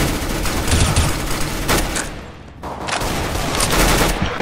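Gunfire in a competitive Counter-Strike: Global Offensive match, a sustained loud burst of rapid shots with a brief lull before firing resumes.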